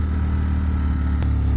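A 2021 Ducati Streetfighter motorcycle engine running up close and loud, a dense throbbing rumble held steady, with a brief sharp click near the end.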